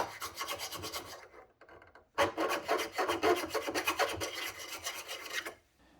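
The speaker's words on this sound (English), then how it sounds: "a flat file doesn't really work as well as this curved one" Tsubosan curved hand file rasping across metal to remove a burr, close, quick back-and-forth scraping strokes in two bursts separated by a short pause.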